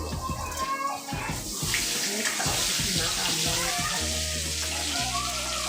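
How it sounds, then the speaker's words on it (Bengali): Cardamom pods crackle and sizzle in hot oil in a home kitchen, a busy stream of pops and hissing near the mic with some clattering in between and someone speaking over it. "এলাচ ফাটাইতেছি"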